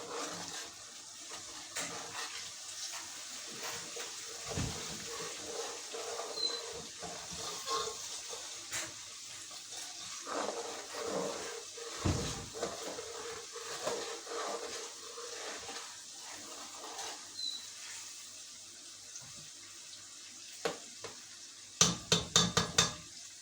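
Chopped onions frying for nihari in a pan, a continuous hiss and crackle of sizzling with occasional stirring scrapes, moderately loud and close, ending in a few sharp clinks of utensil on metal.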